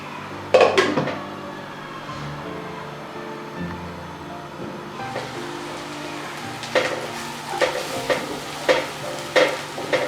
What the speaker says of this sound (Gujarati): હવે ધીમે ધીમે આ કાંદાને ચડવા દઈએ।